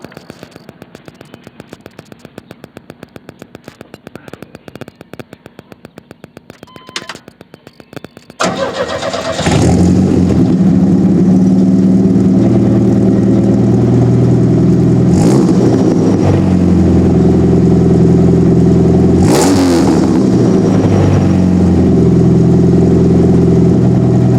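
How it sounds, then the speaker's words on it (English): A small four-cylinder truck with a glass pack exhaust starts from cold: faint clicks first, then the engine cranks and catches into a loud, rumbling idle with a few revs, close up. "I'm gonna go ahead and give it a quick cold start for you. And it's got currently got a glass pack exhaust on it."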